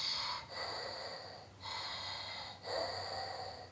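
A voice imitates Darth Vader's breathing, with three slow, rhythmic, hissing breaths through a mask-like rasp, close and fairly loud, each separated by a brief pause.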